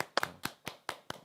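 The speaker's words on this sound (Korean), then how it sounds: "하나님께 영광 드리는 박수" A few hands clap in a church worship service, five sharp, evenly spaced claps, close and fairly quiet, in an otherwise silent room.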